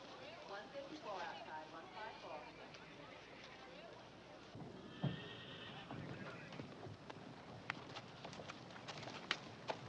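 A horse whinnies and snorts amid background noise and scattered hoof clops, with people talking faintly nearby.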